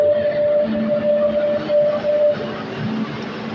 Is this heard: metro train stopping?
yes